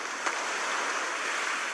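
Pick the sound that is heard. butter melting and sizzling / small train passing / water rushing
water rushing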